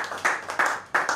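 Church congregation clapping together in a few loud, rhythmic bursts, close and alone without talk.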